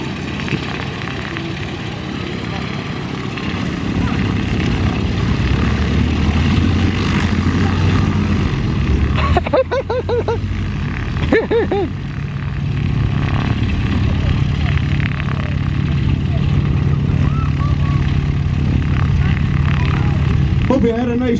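Boeing PT-17 Stearman biplane with its radial engine running and taxiing, a continuous loud propeller drone holding steady nearby, with a brief dip and flutter partway through and talk over it.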